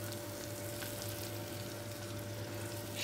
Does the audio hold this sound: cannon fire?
no